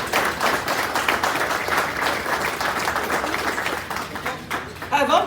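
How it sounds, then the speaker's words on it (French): Sustained applause from a council meeting audience for outgoing councillors, with dense steady clapping filling the room throughout. "Je vous demande d'applaudir les conseillers et les conseillères sortantes."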